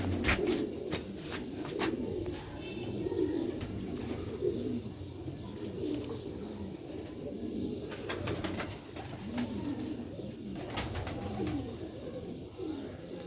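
Rooftop pigeons in Sialkot cooing repeatedly nearby, soft throaty rolling calls overlapping in a loose rhythm, with occasional wing flutters and clicks.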